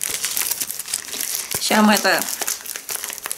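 A small bag of Joy Matcha Japanese tea is handled and opened, giving steady close crinkling and crumpling of packet material while someone speaks over it.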